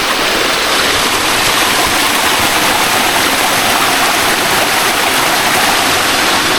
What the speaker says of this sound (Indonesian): Sampai dikelilingin sungai ya. Di mana-mana airnya melimpah nih teman.